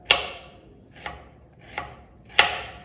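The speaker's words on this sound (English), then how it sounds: "Cut it in small slices you can." A knife chops through pork meat on a cutting board, cutting it into small slices: four sharp, separate strikes at uneven intervals, close and fairly loud, with no talking.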